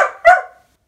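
Dog barking close by, two loud, sharp barks in quick succession that ring out and fade into silence.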